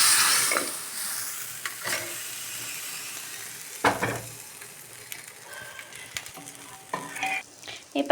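Asafoetida, curry leaves and coriander leaves tempered into hot oil for idli sambar, giving loud bursts of sizzling and frying with stirring clatter, spiking sharply at moments as the leaves hit the oil.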